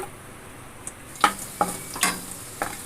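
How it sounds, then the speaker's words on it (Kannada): Cashews and raisins roasting in hot ghee in a pan, a soft continuous sizzle with a few sharp spatters and light stirring scrapes, close and fairly quiet with no talk. "ಈಗ ತುಪ್ಪ ಕಾದಿದೆ ಗೋಡಂಬಿ ಹಾಕೊತ ಇದ್ದೀನಿ ಸ್ವಲ್ಪ ಬ್ರೌನಿಶ್ ಆಗಲಿ ಗೋಡಂಬಿ ರೋಸ್ಟ್ ಆಗಲಿ"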